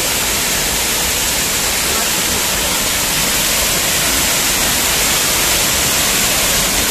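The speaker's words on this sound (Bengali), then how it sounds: "এই প্রথম ঝর্ণা দেখছি" A waterfall roars steadily, a dense, loud, unbroken rush of water that fills the whole stretch without pause.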